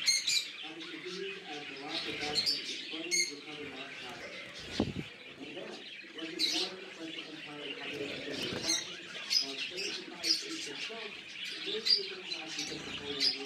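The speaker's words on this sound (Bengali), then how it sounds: "এখানে আছে একজোড়া ফন বেঙ্গলি।" A pair of fawn Bengalese finches at a finch breeding farm, giving quick, thin chirps and calls that repeat irregularly among other busy cage-bird sounds.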